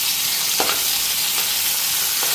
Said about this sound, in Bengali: মাছগুলি না বেশি ভাজা করুন না।